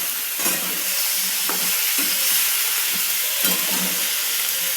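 Eggplant pieces for dal vangi sizzle in a hot pan while being stirred, a constant loud frying hiss with a few soft scraping stirs and clinks mixed in.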